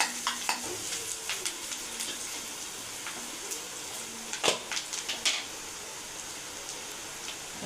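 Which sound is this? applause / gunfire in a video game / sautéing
sautéing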